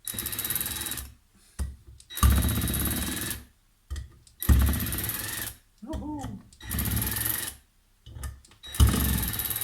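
A power tool undoing nuts on the primary chaincase of a Triumph Trident T150 motorcycle runs in repeated bursts of about a second each, loud and close, with short pauses between them.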